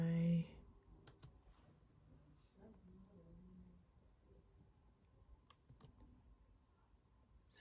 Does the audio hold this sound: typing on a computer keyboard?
yes